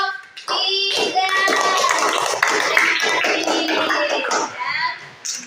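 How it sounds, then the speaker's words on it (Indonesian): A classroom of young children claps together for a group of classmates, a loud sustained patter of small hands mixed with excited voices and a teacher's speech throughout. "Ya, tepuk tangan untuk kelompok"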